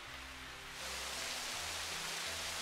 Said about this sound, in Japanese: ああ、雨の勢いすごくなってきた。